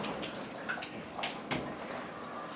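A single-function rainfall shower head sprays water at moderate pressure, making a steady, soft hiss with a few faint patters and drips throughout.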